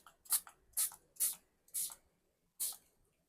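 Five quick, hissing spritzes from a spray bottle, close up, with brief pauses between them in an otherwise quiet room.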